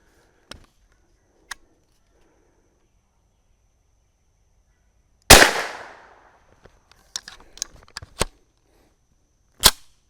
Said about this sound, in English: I'll shoot one in the gel block and then one over the chronograph.